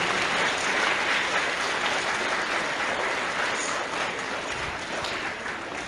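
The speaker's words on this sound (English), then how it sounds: "Can you give them a round of applause?" A school assembly audience gives a round of applause for the Roots ambassadors. Dense, loud, continuous clapping fills the room and eases off slightly toward the end.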